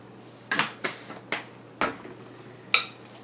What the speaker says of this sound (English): You want to stir it up really good.